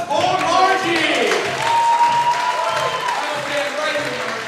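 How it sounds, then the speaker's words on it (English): An audience at a vaudeville show claps and cheers in a brief burst of applause, with a voice speaking loudly over the clapping throughout. "Big round of applause for Margie"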